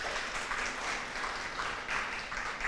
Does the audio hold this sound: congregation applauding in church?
yes